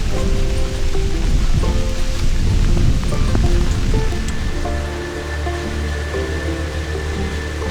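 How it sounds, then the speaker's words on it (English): Steady rain patters on a boat on the Vaal River, South Africa, with a dense, hissing wash of sound, loud and continuous, with a low rumble underneath. "it's starting to rain."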